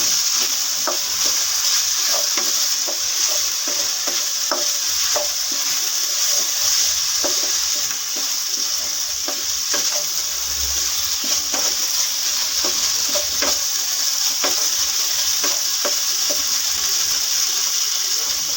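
Masala-coated chicken tikka frying dry in a pan, a constant hissing sizzle with regular scrapes and knocks of a spoon stirring, steady and close throughout with no talking.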